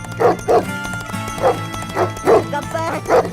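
A dog barks in a steady series of about seven loud, close yaps and woofs, evenly spaced with a whimpering edge, over a low background hum.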